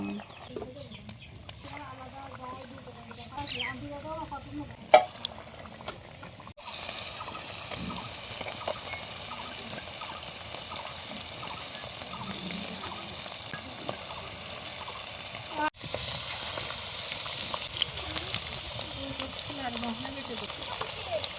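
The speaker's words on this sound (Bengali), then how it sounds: "শাক রান্না শুরু হয়ে গেছে এখন" Leafy greens (shak) sizzle and fry in a home kitchen pan, a steady bright hiss that swells louder partway through, with faint stirring clatter and brief talk early on.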